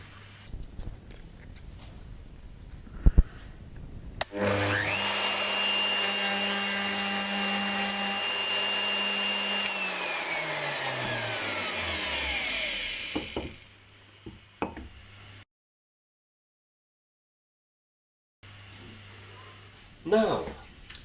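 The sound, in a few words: router cutter cutting a 6mm rabbet in wood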